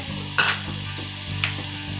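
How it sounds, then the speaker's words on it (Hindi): Beef mince sizzling in a pan as green chili paste and coriander go in, a steady frying crackle with two soft stirring scrapes over about two seconds. "अब हम इसमें हरी मिर्चों का पेस्ट और हरा धनिया का जो बनाया था वो डाल देंगे"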